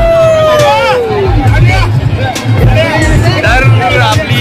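A dense crowd at the Ekvira palkhi festival in Karla fills the air with loud, continuous babble of many voices, with a passing vehicle's tonal whine and traffic rumble mixed in close by.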